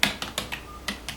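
Short bursts of typing on a computer keyboard as a file name is entered, with about six crisp, close keystrokes spaced unevenly.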